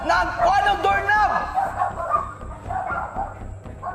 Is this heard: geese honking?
no